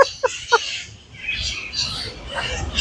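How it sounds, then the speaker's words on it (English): Parrots call loudly: a few sharp, close squawks come in quick succession at the start, then rougher, noisier calls follow further back. "Parrots are super loud."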